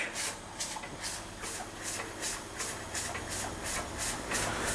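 A small Weeden 44 model steam engine chuffs slowly and faintly, regular soft bursts of hissing steam repeating about twice per second over a low background rumble.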